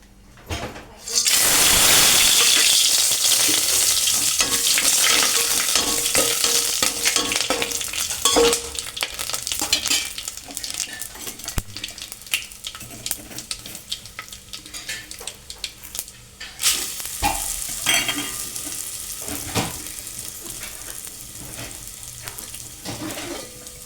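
Hot oil sizzles loudly in a pot as spices are dropped in to temper them for chicken dum biryani, a bright continuous fry that bursts in at the start and then settles, with stirring and a second flare later.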